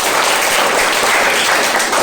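A classroom of students claps together, a loud, dense burst of applause that fills the short stretch without letup.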